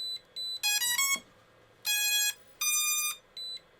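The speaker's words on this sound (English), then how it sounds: "Now our radio is beeping quite a bit here as it attempts to connect to the drone" A Bwine F7 GPS camera drone's radio controller beeps repeatedly while linking to the drone, with short high electronic tones in shifting bursts, some clipped and some longer, loud and close.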